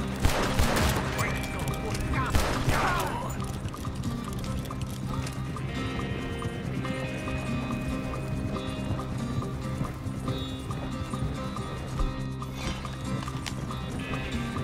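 Horse hooves clip-clopping at a steady gallop in the Western video game Red Dead Redemption 2, close and continuous under shouting voices, with a whinny and scattered shots near the start.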